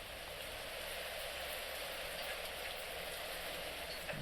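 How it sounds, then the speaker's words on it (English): Steady, loud video game rainfall pours down continuously, a dense hiss of drops hitting surfaces with no pauses or voices. "That is some loud rain."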